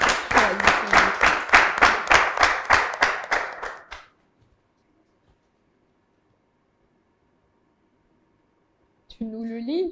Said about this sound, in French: On applaudit pendant qu'elle choisit son défi.